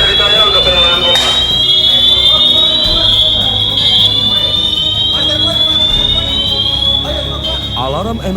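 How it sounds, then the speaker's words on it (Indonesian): An emergency alarm wails at a Pertamina fuel terminal (TBBM Wayame), a continuous high siren tone holding steady and loud with slow pitch drift, with faint background activity and brief voices underneath. "Alarm emergency menjadi instruksi bagi seluruh karyawan TBBM Wayame agar segera meninggalkan ruang kerjanya untuk berkumpul di Master Point."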